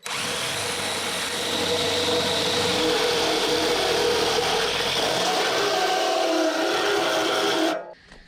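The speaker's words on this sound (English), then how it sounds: "You're basically just pilot holing the metal out right now. Getting through this angle iron, and then popping the big hole." A power drill bores pilot holes through steel angle iron for a mobile wagon blind, running as a loud, continuous close whine that strains slightly before cutting off near the end.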